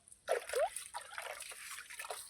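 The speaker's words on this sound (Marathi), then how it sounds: "बघा इथं पाणी आहे. हे असं पाणी असतं" Water trickles and splashes in a garden where jasmine buds are growing, starting suddenly with a couple of bright splashy bursts, then settling into a steady, moderately close trickling flow with no talk over it.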